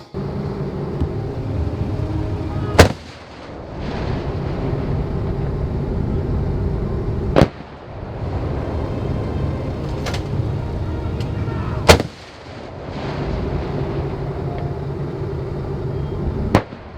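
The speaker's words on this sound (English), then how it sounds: "The 105mm LG Mark III will now engage target number 7." Military 105mm LG Mark III artillery gun firing during a live-fire exercise: four sharp, loud blasts spaced roughly every four to five seconds over a steady background rumble, with faint voices.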